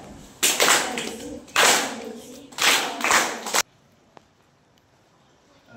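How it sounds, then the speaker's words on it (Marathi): Applause at a school mock election event, four loud bursts of clapping from a crowd, each lasting about a second, separated by short gaps and followed by near silence. "जोरदार टाळ्या।"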